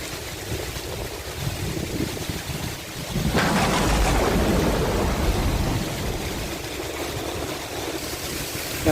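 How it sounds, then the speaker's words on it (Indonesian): Heavy rain pours steadily while fishing under a bridge, with a deep rumble of thunder swelling in from about the midpoint and lingering beneath the dense hiss of downpour, loud and close throughout. "Ya guys, posisi hujan deras nih."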